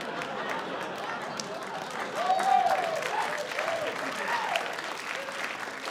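Audience applause at a comedy show, a steady wash of clapping with some whoops and cheers that swells slightly midway, filling the room without any talk over it.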